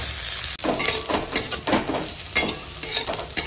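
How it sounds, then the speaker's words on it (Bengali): Onion, green chili and bitter gourd frying in a pan give a loud, steady sizzle, broken by repeated scraping stirs and light clinks of a utensil against the metal. "ওইটা এখন পেঁয়াজ লঙ্কা দিয়ে দিলাম, দিয়ে একসঙ্গে ভালো করে ভেজে নেবো।"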